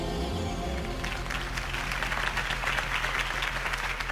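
Crowd applause and cheering in a video game swell up after a moment, a dense wash of clapping that continues steadily over low background music.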